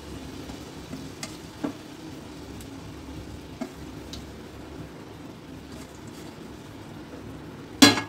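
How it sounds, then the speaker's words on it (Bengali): Marinated chicken tikka pieces fry in a pan, making a faint, steady sizzle broken by a few soft ticks and pops, and ending with a louder utensil clatter. "এইভাবে এক পিঠটা 5-10 মিনিট ধরে ফ্রাই করে আর অপর দিকটা আরও 5-10 মিনিট ধরে ফ্রাই করে ভালোভাবে লাল টিক্কা বানিয়ে নেব"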